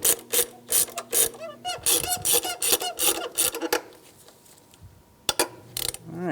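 A ratchet with a 12 mm socket snugs the throttle body bolts on a 2003-2011 Honda Element, giving rapid close clicking bursts in quick repeated strokes, then quieter scattered clicks and a sharp tap near the end.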